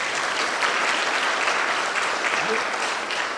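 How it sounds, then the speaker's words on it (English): Steady applause from a dinner audience fills the room, dense and sustained clapping at even loudness throughout with no pauses. "Let's give Jeevan a round of applause."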